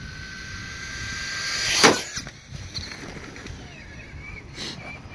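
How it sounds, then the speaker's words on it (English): A stock two-wheel-drive brushless Traxxas Slash RC truck at full speed outdoors makes a rising whine that peaks sharply as it passes close by, then fades into faint outdoor background. "So here is the first run with a stock two-wheel drive Traxxas slash."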